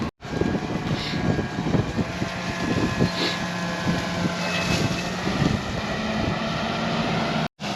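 A tractor flipping over a massive roll-over moldboard plow in a field, a steady nearby engine drone with a sustained hum and some wind noise, no one talking.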